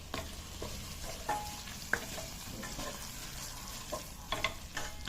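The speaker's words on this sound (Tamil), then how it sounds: "இப்போ நான் இதை வந்து நல்லா கலந்து விடுவோம்" Soya meat curry is stirred in a hot pan. A continuous, close sizzle runs under scattered scrapes and clinks from the spoon, with no voices.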